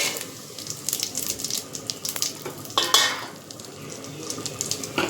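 Whole garam masala spices drop into hot oil in a pot for prawn biryani, producing a steady close sizzle with a sharper burst of frying and metallic clatter partway through.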